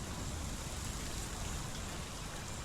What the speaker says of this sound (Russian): Дождь еще. Адский дождь. Бесконечный.